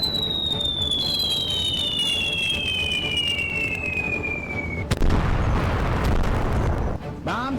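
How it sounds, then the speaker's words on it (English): Bombs exploding on target in a game scene: a falling whistle followed by a sharp blast and a rumbling burst of explosions, loud and close. "Bombs on target."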